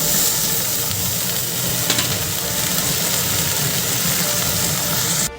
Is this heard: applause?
no